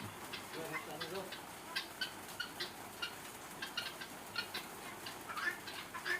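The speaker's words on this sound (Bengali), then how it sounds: "এই যে মুরগি ছেড়ে দিলাম" Chickens cluck in a short, uneven series of soft calls just after being let out of their coop, faint and at a middle distance over steady background noise.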